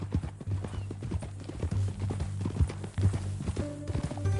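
Horse hooves in Red Dead Redemption 2 clip-clop in an uneven walking rhythm over a low steady hum, with a brief whinny-like sound in the background.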